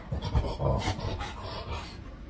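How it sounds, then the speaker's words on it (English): A dog pants close by with short breathy bursts and a few soft whimpers, steady and fairly quiet throughout. "Sorry, the dog in the room."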